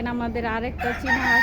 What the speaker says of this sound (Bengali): ওইদিকে মোরগটা ডাকতেছে।